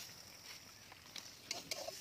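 Chilli, garlic and onion fry in a pan outdoors in a mango orchard, with a faint steady sizzle broken by a few quick scraping stirs and light clinks near the end.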